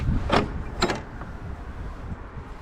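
A house door at a vineyard country house in Sarayköy, Denizli, opened with two short mechanical clicks and rattles close by, followed by a quieter hiss of outdoor ambience.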